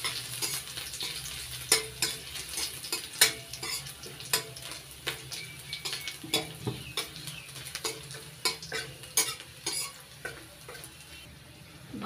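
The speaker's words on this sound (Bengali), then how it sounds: "রসুনটা একটু লাল লাল করে ভেজে নেব।" Crushed garlic fries in oil with a continuous close sizzle, punctuated by frequent clacks and scrapes of a spatula stirring against the pan; no talking.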